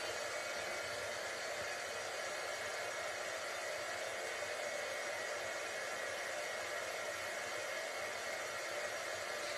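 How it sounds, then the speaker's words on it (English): A heat embossing gun blows hot air in a steady, continuous whooshing roar, close and even from start to finish, with no voices. "So I'm going to heat up my embossing gun."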